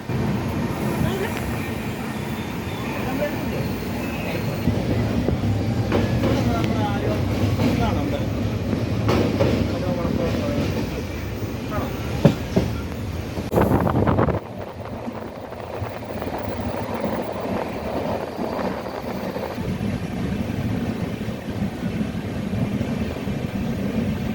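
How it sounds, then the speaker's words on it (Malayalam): A moving passenger train leaving Ernakulam rumbles and rattles steadily throughout, with rhythmic wheel clatter and a brief louder burst midway, heard from inside a coupe compartment during monsoon. "അങ്ങനെ എറണാകുളത്ത് നിന്നും ട്രെയിൻ വിട്ടു"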